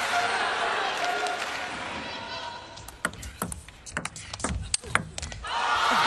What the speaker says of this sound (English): And the crowd's getting loud.